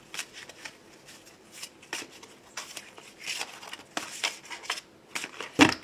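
Tarot cards shuffled by hand give a run of soft riffling, flicking bursts at an uneven pace, close and moderately quiet, ending with a sharper snap of the deck.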